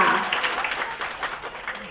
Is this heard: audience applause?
yes